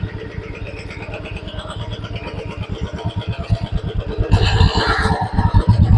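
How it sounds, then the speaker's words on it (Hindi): Three Royal Enfield Bullet 350 engines idle and thump in a steady synchronized rhythm nearby, then one revs louder toward the end. "तीनों बाइक की आवाज सुनो आप, तीनों सिंक्रोनाइज थंब पे चल रही हैं।"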